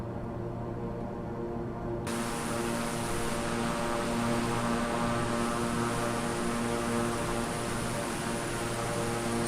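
Beechcraft King Air 350i turboprop cruising in flight in Microsoft Flight Simulator 2020, a constant loud propeller drone with a steady buzzing hum that brightens slightly after the first couple of seconds, unbroken throughout.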